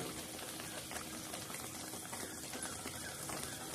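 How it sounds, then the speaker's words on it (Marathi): Raw ground masala of coriander, cumin, green chilli and tomato simmering in a pot, a soft, steady bubbling and popping that stays faint and even throughout, heard close with no talking. "आता हा मसाला आपला चांगल्या पद्धतीने शिजत आहे"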